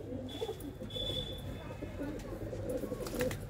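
Golden pigeons cooing at a pigeon sale in Ludhiana, low murmuring coos running steadily throughout amid a busy, noisy background, with talk mixed in.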